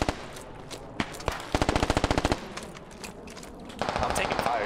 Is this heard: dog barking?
no